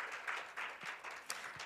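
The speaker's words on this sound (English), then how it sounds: "Yes, do please give him a big round of applause." Soft, steady applause from a forum audience at an international connectivity conference, a fairly faint, even wash of clapping with a few sharper individual claps and no speech.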